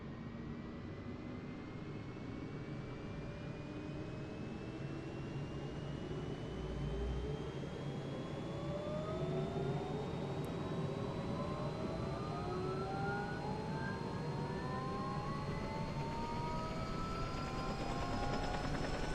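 A helicopter engine spooling up in Microsoft Flight Simulator, a steady turbine whine rising slowly in pitch over a continuous rumbling drone, close and sustained throughout without talk.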